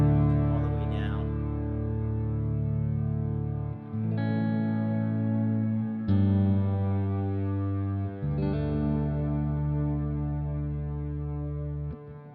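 Sustained electric guitar chords through a Strymon Cloudburst ambient reverb pedal in ensemble mode, washed in lush, dark reverb, with several strummed changes ringing out into long, swelling tails.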